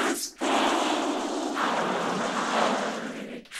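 Vocals run through an Ableton vocoder with a noise generator carrier come out as a breathy, hissing, demonic-sounding wash, moderately loud and continuous after a brief gap at the start.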